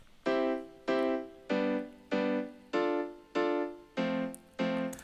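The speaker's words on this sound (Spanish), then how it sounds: "Tritón, Acoustic Piano para hacer este piano que suena algo así" A Korg Triton synth's acoustic piano preset plays a slow, evenly spaced sequence of eight sustained chords, each struck cleanly and decaying before the next, close and clear with no talking.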